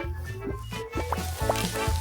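Oil sizzles and crackles steadily as potatoes fry in a pan, a continuous busy hiss close by.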